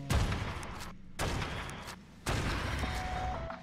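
Rifle shots ring out in the video game Ark Survival Ascended, coming as three loud, sharp blasts at roughly one-second intervals, each followed by a ringing tail, with no talking over them.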